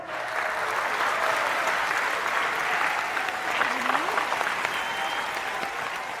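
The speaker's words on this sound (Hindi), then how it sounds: "तालियां" Applause from an audience at a comedy awards show fills the whole stretch, steady clapping with crowd noise, fairly loud and continuous, with no talk over it.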